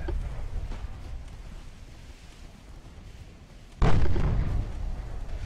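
A naval torpedo strike in Ultimate Admiral: Dreadnoughts: a low rumbling battle ambience, then a sudden heavy explosion that booms loudly and rolls on with a dull, sustained rumble.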